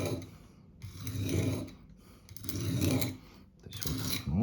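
A steel blade is rubbed across an old whetstone in slow back-and-forth strokes, a soft rasping scrape repeating about three times, close and fairly quiet.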